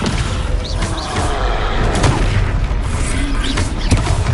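A Descendo spell slamming down in Hogwarts Legacy, heard as loud booming impacts and crashing thuds in a continuous heavy rumble, with sharp hits around the middle and end.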